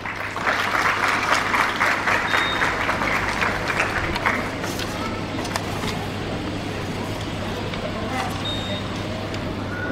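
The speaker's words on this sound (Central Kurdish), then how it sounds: "چەپڵەکانتان بۆیان" A school audience claps for ninth-grade students at an honours ceremony, a dense burst of applause for about four seconds that thins into a steady, softer roomy noise.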